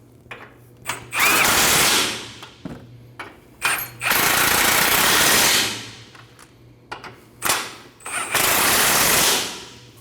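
A power tool drives three 24mm bolts into the steering box of a 2012-2021 Nissan NV2500 van, sounding in three loud, rapid hammering bursts of several seconds each, separated by brief clicks and short pauses.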